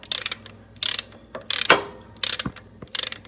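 Ratchet fitted with a 10mm Allen socket loosening the transmission drain or fill plug on a 2010-15 Toyota Prius eCVT, giving several close, loud bursts of rapid clicking with short pauses between strokes.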